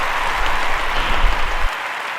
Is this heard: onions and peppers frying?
no